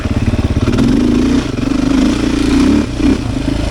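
A Beta 500 RS dirt bike engine revs hard while riding, its loud throaty pulses rising and falling steadily throughout with no voices.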